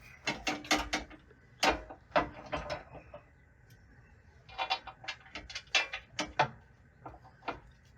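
Bolts on a skid plate under a diesel Jeep JL are tightened with a ratchet, giving bursts of quick metallic clicking that start and stop in short runs, close and fairly loud, with no voices.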